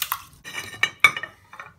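Dry rice is tipped into a pan in a few short, rattling bursts of grains and light metallic clinks, close and brief with short pauses between.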